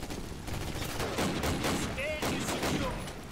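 SVT-40 rifle shots ring out amid a wider firefight in the Call of Duty: United Offensive battle, several sharp cracks over continuous combat noise and faint voices.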